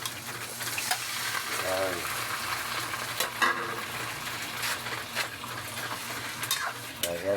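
Chicken gizzards hit hot oil in a pan with plenty of garlic, giving a steady, close crackling sizzle with occasional stirring scrapes and a brief spoken word.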